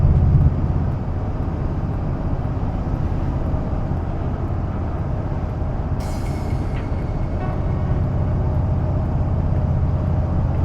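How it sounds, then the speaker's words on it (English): Steady low road rumble fills the cabin of a 2024 Toyota Tundra TRD Pro cruising at highway speed, a constant broadband drone with a brief higher hiss partway through. "Now let's really evaluate the road noise."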